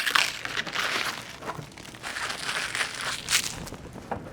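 Plastic film and tape peeled and crinkled off a newly unboxed color label printer, a close, irregular run of soft rustling and crackling with no talk.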